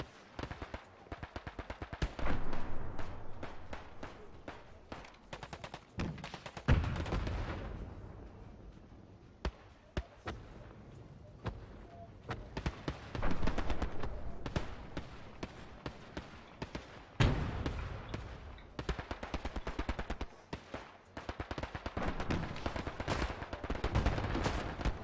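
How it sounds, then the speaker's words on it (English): Artillery barrage and small-arms fire in Hell Let Loose: dense rapid gunshots and machine-gun bursts crackle throughout, broken by heavier booming impacts, loud and continuous with almost no talk. "Let's move the barrage."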